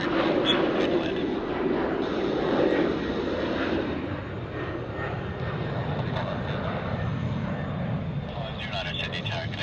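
An aircraft comes in to land on runway 34 left at Sydney Airport, a broad continuous engine roar that is strongest at first and then eases slightly, with radio talk running over it.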